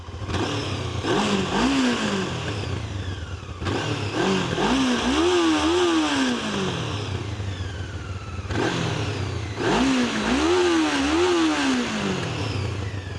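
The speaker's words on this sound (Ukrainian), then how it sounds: "Подивимося, як він передасть звук вихлопу. От коли я погазую, мені це дуже цікаво." A motorcycle engine revs up in repeated bursts, the pitch climbing and falling, with a steady rumbling exhaust in between; close and loud, no voices.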